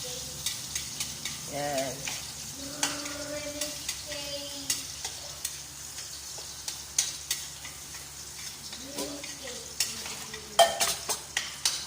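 Garlic frying in oil in a pan for chicken tinola, a steady close sizzle broken by repeated scraping and clinking of a utensil stirring against the pan; a voice speaks briefly.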